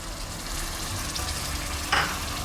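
Onions fry in a pan for kofta curry, a dense continuous sizzle and crackle close up, with a brief louder scrape or stir near the end.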